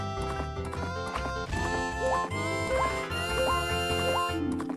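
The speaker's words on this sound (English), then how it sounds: "Because I'm struggling to remember how to ride a horse." Steady clip-clop of a horse galloping in Majora's Mask, rhythmic hoofbeats running throughout under layered game music, with occasional rising whistle-like tones; no talking.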